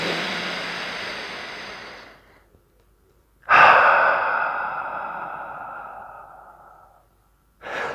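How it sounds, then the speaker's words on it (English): Slow, deep breaths during a breathing exercise meant to boost running performance: a long, steady breath that fades away, a pause, then another sharply drawn, drawn-out breath that tapers off, close and alone. "do the breathing."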